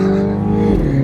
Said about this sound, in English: You can just hear the rapid shifts. The sound from that exhaust is awesome.